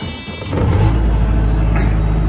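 A JCB 1CX mini backhoe's diesel engine cranks and catches about half a second in, then settles into a loud, steady rumbling idle close by.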